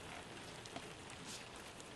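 Heavy rain falling in a steady, dense hiss, quiet and even throughout with no voices over it.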